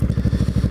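A Kawasaki Ninja motorcycle ridden through Wildwood and North Wildwood, its engine pulsing in a fast, even low throb, loud and close, with no talk.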